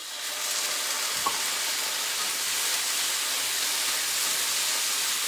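Vegetables for cauliflower rice pilaf sizzle steadily in a hot pan, a constant bright crackling hiss with a single faint clink partway through.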